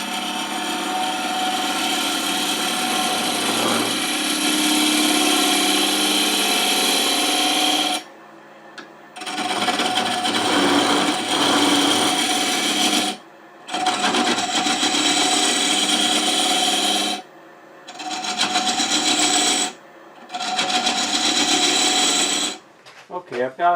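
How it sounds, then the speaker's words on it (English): A 3/8 inch detail gouge hollows wood on a lathe with a steady, harsh scraping rasp over the machine's hum, broken by several short pauses where the cut stops and resumes. "I'm going to use a 3/8 inch detail gouge to hollow"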